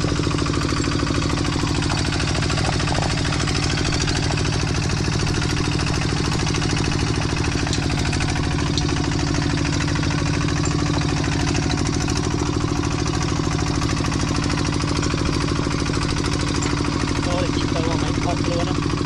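A machine engine on a farm outing drones at a steady idle throughout, close and constant, with people talking over it.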